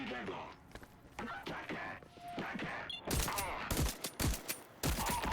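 A run of loud gunshots in VoidTrain, heavy and closely spaced, bursts out in the second half after quieter game noise, with faint speech in the background.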